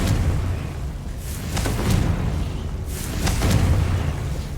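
Bombarda explosion spell cast in the video game Hogwarts Legacy: a few booming blasts at uneven intervals over a steady low rumble of game ambience, with no talking.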